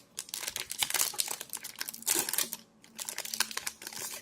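A Yu-Gi-Oh Legendary Collection booster pack wrapper being torn open, close crinkling foil in several bursts with a short pause in between.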